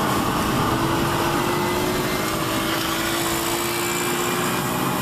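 A moped engine on a highway in Acapulco gives off a thin, steady whine that rises slightly, set in a loud, continuous wash of road and wind noise, with no talking.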